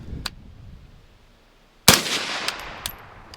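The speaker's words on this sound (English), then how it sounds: "Again, 3 rounds off into the dirt." Suppressed gunshots from a firearm fitted with a JK Armament Form 1 suppressor, fired into dirt outdoors: one loud, sharp thumping report stands out, with fainter short pops before and after it.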